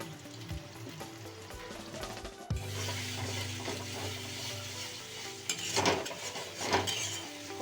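Loitta (Bombay duck) fish sautéing in a pan with salt as it cooks down, a close steady sizzle with stirring and scraping, metal clinks, and a brief lid-like thump early on.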